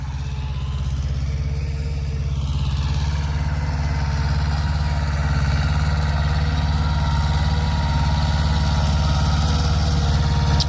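A farm tractor idles steadily and loudly in a field during tilling, a continuous low throb with no break and no voices.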